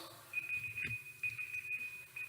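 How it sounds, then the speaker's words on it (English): A timer alarm beeps as a steady high electronic tone, repeating with short gaps, faint and slightly in the background of a quiet room. "That's my timer, guys."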